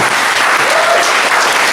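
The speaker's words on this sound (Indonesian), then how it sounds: "dari Tasikmalaya, tepuk tangan yang paling jauh" Indoor audience at a Nikon photography roadshow in Solo applauds a guest from Tasikmalaya, a loud dense burst of clapping that stays even and continuous from start to finish.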